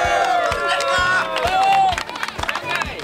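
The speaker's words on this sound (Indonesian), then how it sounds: "tepuk tangan buat kita semua." Crowd at an Indonesian Independence Day celebration cheering and shouting, with scattered claps punctuating loud, close voices in short bursts.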